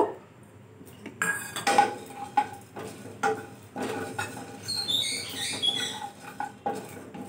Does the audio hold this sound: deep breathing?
no